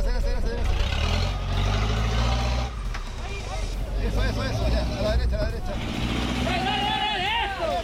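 Borrowed jeep engine droning loud and steady as it accelerates, a low rumble under constant chatter and excited voices of several people nearby.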